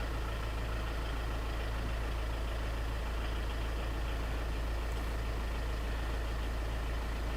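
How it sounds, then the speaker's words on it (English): A Citroen C5's engine idles with a steady, low rumble without change, loud and close, with no other sounds over it. "I've got to have the engine running to tell it to do that."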